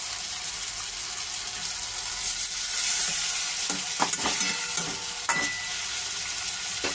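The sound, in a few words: stir-frying okra with spice paste in a pan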